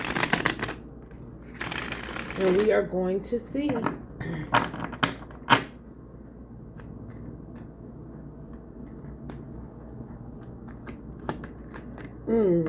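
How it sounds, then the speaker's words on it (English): Tarot cards riffled and shuffled in quick bursts of crisp paper flutter and taps, loudest early then sparse clicks, with someone talking over parts of it. "Let's do one more shuffle, y'all."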